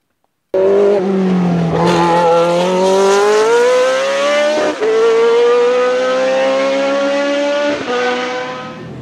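Onboard GoPro recording inside a daily-driven car: a steady, loud engine drone rises gradually in pitch as it accelerates, with a couple of brief dips that sound like gear changes, and no talking.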